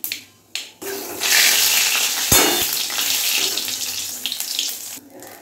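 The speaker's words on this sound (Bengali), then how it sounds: "আর এখানে দিয়েছি সর্ষে আর শুকনো লঙ্কা ফোড়ন।" Mustard seeds and dried red chillies sizzle and crackle loudly in a small amount of hot oil, a dense steady hiss with scattered pops and a sharp snap near the middle, close up with no voices.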